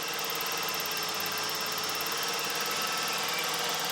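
A Ford Ranger 2.9 engine idles roughly with a vacuum hose pulled off near the PCV valve, giving a steady, close hiss and whine over a dense continuous drone with no talking.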